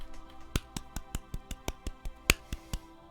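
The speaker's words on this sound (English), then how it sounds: "I'm clapping next to the mic that's transferring it to the headphones" Hands clapping right beside a microphone: about a dozen sharp, close claps in a quick, fairly even rhythm, loud and dry with nothing else behind them.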